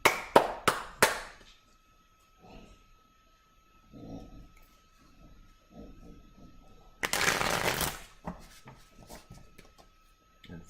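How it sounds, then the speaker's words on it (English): A few quick riffles of tarot cards at the start, then quiet rustling and handling, followed by a longer riffle shuffle about halfway through, close by. "let me just gather these up and shuffle really quick"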